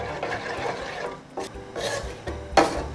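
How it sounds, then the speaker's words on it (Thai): Scraping, clinking stirs of a spoon mixing Thai iced tea in a cup, in a few uneven bursts with a sharper scrape near the end, fairly close. "ระหว่างนี้เราก็ใช้ช้อนคนให้ให้เข้ากันได้นะคะ"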